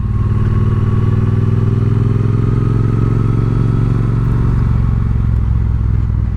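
A Triumph Bobber motorcycle cruises along neighborhood roads, its engine giving a loud, steady, close drone that holds an even pitch throughout.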